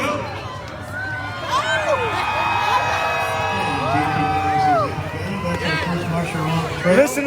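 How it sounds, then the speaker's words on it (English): A crowd lining the street cheers and whoops loudly as the first team leaves the start of the Fur Rondy Open Class World Championship sled dog race in Anchorage, a sustained roar of voices with shouting and whistles throughout. "Listen to that crowd giving the cheer to the first team."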